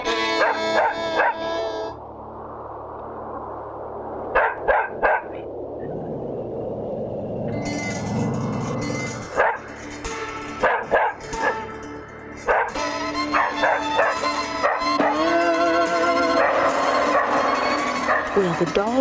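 Barking, yipping and whimpering dog sounds used as effects in a spoken ghost story about a dog ghost fighting a fiddle man. The bursts come repeatedly and fairly close, mixed in with a storyteller's voice and other effects.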